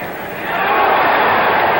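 A boxing arena crowd roars in reaction to a punch in the Muhammad Ali vs Ken Norton fight, a dense, loud wash of voices that swells after the first half second and stays high.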